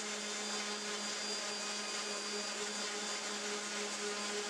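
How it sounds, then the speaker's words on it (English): A 2x72 belt grinder with a buffing belt and compound runs on knife handle scales, giving a steady, even whirring hum with a high tonal whine and no pauses. "And then I like to use the 2x72 to start buffing the scales."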